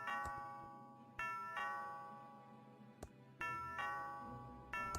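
A doorbell rings in the video game Thimbleweed Park with clear, tonal chimes repeated several times. Each ding rings out and decays before the next strike, and no voices are heard.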